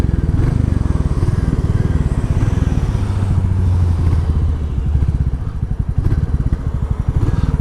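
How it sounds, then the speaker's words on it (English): A Royal Enfield Classic 350 motorcycle thumps steadily while riding, its single-cylinder beat loud and close, with a rapid low pulse and road rumble throughout. "What I love about it is that thump on the bike."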